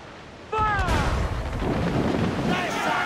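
Ship cannons in Assassin's Creed IV: Black Flag boom out in a heavy, rolling naval broadside that starts abruptly and rumbles on loudly, with a shouted voice at the onset.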